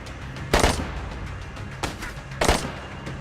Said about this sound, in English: so prepare for a gunfight